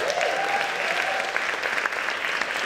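A theater audience claps steadily and evenly for a stage set throughout, a dense continuous patter of many hands with no voices over it.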